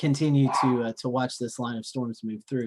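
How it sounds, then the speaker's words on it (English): A pet dog barks in the background, short yappy bursts partly masked by a person talking continuously over them. "I apologize for my dog barking."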